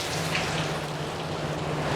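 Steady rain falls in a dense, even hiss across the whole moment, with no breaks or rhythm and no voices over it.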